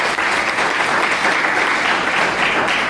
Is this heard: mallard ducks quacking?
no